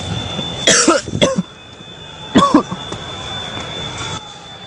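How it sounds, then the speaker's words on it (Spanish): A person coughs from heavy smoke in two short harsh bursts, close and loud, with a quieter cough afterward over a faint steady hum. "La gran cantidad de humo lo hace toser."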